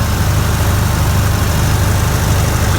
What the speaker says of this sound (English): It will start without the choke, and you need the choke though to keep it running a little bit.